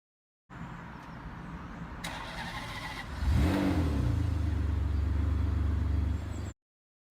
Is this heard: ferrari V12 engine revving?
yes